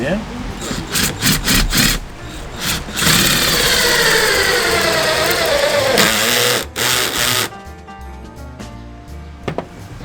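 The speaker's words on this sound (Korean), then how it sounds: "제가 스크류 볼트 한번 박아볼게요." A Zaya JPD-126 cordless drill whirs in bursts, its motor pitch shifting under load as the screw bites into wood, with short clicks and pauses between runs.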